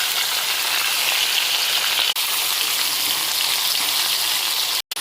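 Chicken pieces fry in hot oil with a dense, continuous hiss and crackle, loud and close, steady throughout apart from a brief dropout near the end, and no voices over it.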